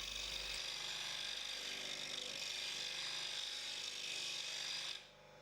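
A wet grinder sharpening a woodturning skew chisel held in a jig, a steady soft rasping grind that runs evenly and then cuts off near the end.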